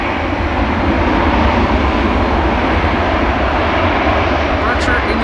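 KLM Airbus A330 approaching Schiphol Airport in windy conditions, a loud, steady broadband roar of jet engines filling the whole stretch, with a voice talking over it.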